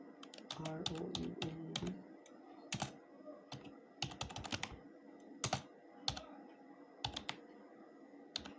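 Computer keyboard typing in AutoCAD while entering a ground floor plan label: bursts of quick, close key clicks in uneven clusters, with low speech-like murmur under the first couple of seconds.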